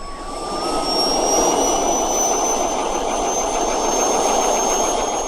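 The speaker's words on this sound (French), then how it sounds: "Décolle!" A loud, steady helicopter engine roar with a high turbine whine above it, continuous and close, as the helicopter takes off; a radio drama sound effect.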